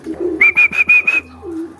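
A racing pigeon coos in a quick run of five or six close, clear pulses, with soft low rustling before and after.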